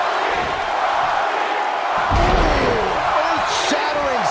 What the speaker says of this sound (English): Earth-shattering spinebuster.